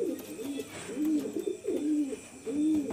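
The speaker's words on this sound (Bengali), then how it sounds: "এখন জাস্ট আপনাদেরকে দেখিয়ে দিলাম কিছু পায়রা শো করিয়ে।" Teddy pigeons coo in repeated soft, throaty phrases close by, the calls rising and falling in a steady rhythm over quiet background.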